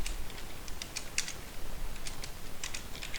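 Typing on a computer keyboard: soft, quick key clicks in uneven bursts over a steady background hiss, close and quiet.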